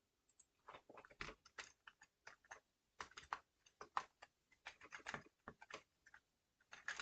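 Typing on a computer keyboard while gaming, quick irregular bursts of soft close-up key clicks with brief pauses, faint and with no voices.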